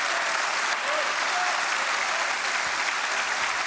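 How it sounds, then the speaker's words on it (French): Sustained audience applause at a political rally, a dense, even wash of many hands clapping in a large crowd, continuous and strong for several seconds. "Je vous remercie beaucoup de m'applaudir"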